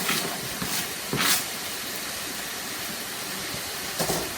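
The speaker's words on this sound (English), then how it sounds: "I'm going to go ahead and add in my sausage" Sausage dropping into a pan of fried rice, a broad steady hiss of sizzling with a few louder bursts as pieces hit the hot oil, close and continuous, no voices.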